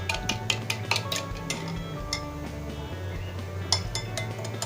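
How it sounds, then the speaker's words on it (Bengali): Pudding mixture with vanilla essence being mixed in a bowl for a stovetop Bangladeshi pudding cake, giving a steady run of light clinks and scrapes from a utensil against the bowl, close and continuous with no talking. "এবার সব কিছু আমি একটু ভালোভাবে 5-6 মিনিট ভালোভাবে মেখে নিব।"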